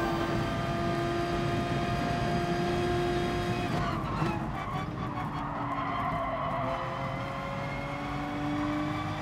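A Porsche race car in GT Sport's FIA Manufacturer lobby, its engine droning at a steady high pitch, then shifting and dipping with a brief tyre scrub midway before climbing again, loud and continuous.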